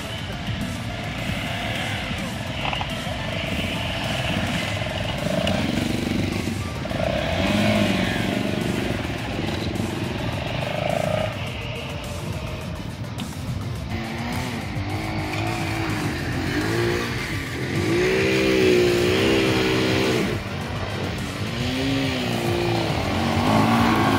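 A Minsk X250 motorcycle revs during an off-road ride alongside quad bikes, its engine rising and falling in repeated loud, nearby surges with people talking over it now and then.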